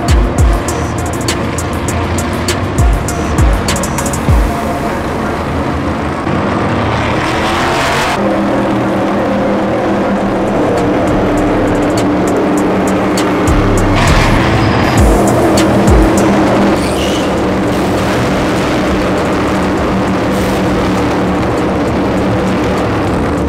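NASCAR stock cars roar past on the track, a loud, sustained engine drone that swells and fades as cars go by, with no talk over it.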